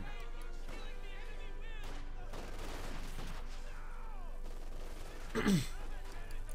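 Gunfire from the Company of Heroes 2 World War II strategy game, with scattered shots and bursts, one louder report near the end, under game music and effects.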